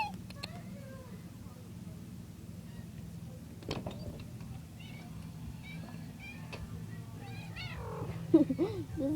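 A kitten or young cat meows softly a few times indoors, brief high calls scattered over a low steady background hum, with a louder cluster near the end.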